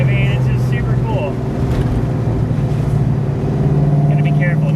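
Supercharged 1993 Ford Mustang Fox Body V8 pulling in fourth gear, a loud steady engine drone with supercharger whine heard from inside the car, while people talk over it.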